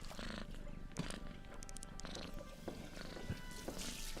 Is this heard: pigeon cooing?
no